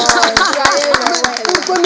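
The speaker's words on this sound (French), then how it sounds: "Applaudissez pour lui" A Christmas gathering audience claps in a quick rhythmic beat, loud and close, with voices talking over the clapping.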